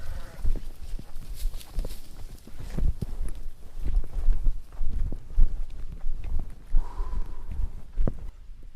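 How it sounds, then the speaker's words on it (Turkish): A large mountain flock of about 1700 sheep, herded by a nomadic shepherd, squeezes through a narrow crossing, making a close, continuous patter of hooves with scattered bleats throughout. "Koyunlarımız böyle geçtiğinde ben rahat bir nefes alıyorum böyle yerlerden."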